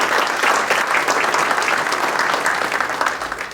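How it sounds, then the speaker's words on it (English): Audience at a ceremony honoring a World War II veteran breaks into loud, sustained applause, a dense wash of clapping that holds steady throughout with no voices on top. "Can I get a nice round of applause for this?"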